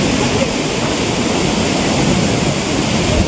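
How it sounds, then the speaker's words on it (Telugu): Heavy water pours from the Nagarjuna Sagar dam gates, a dense unbroken thundering roar heard close and loud throughout with no speech. "చూడండి అసలు ఎట్లా పడుతున్నాయి వాటర్ అనేది"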